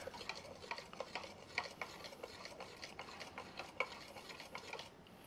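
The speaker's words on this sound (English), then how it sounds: "Let's stir this bad boy up right here." A spoon stirs freshly made fruit juice in a container, quick rhythmic clinks and swishes repeating steadily at close range, fairly quiet, with no talk.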